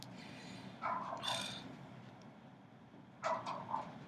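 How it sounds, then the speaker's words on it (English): A dog barks a few times at a distance, two short clusters of yips separated by a pause, faint over a low background hum. "There's my dog barking."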